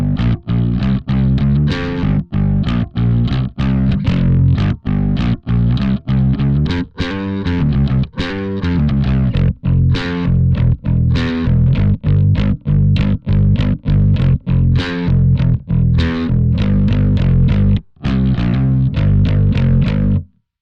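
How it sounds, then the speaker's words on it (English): A bass guitar dialed to a scooped, mid-cut rock tone plays a driving run of plucked notes, loud and continuous with a fat, slightly distorted low end and no talking. "let's just get a kind of scoopy bass sound happening"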